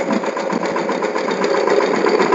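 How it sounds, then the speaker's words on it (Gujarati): A mini tractor engine runs steadily and loudly nearby while pulling a weeding implement through an intercropped field, with a constant chugging drone and no pauses. "જુઓ ટ્રેક્ટર એકદમ એમને હાલ્યું આવે છે"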